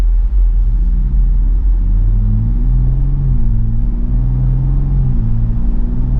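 A 2023 Ford Bronco Raptor accelerating, heard from inside as a loud, steady low engine rumble whose pitch climbs, dips at gear changes and climbs again.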